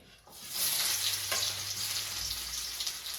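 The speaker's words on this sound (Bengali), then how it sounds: "আগে রসুনটা ফোড়ন দেবো" Garlic tempering in hot oil, frying with a steady loud sizzle and crackle after a brief quiet start, with a few stirring scrapes in the pan.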